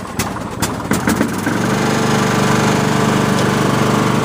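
A Husqvarna YTH20K46 riding lawn mower engine cranks with a few uneven starter bursts and then catches, settling into a steady, loud idle close by.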